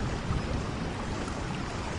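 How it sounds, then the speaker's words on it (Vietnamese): Rain falls steadily in Hanoi, a dense continuous hiss of drops with no pauses or voices, even and moderately loud throughout. "Trời lại mưa rồi"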